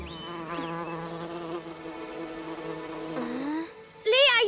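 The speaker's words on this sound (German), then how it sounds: "hier ist eine Biene" Cartoon bees buzzing in steady, wavering drones, with high whining insect tones sliding up and down, close and moderately loud; a short sharper burst comes at the end, and no words are spoken.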